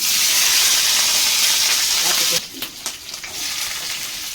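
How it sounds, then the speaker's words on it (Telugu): Ivy gourds for chutney sizzle loudly in an oil-filled pan, the steady hiss suddenly dropping halfway through to quieter crackles and soft stirring scrapes, heard up close. "దొండకాయలు కూడా వేయించుకుంటున్నాను."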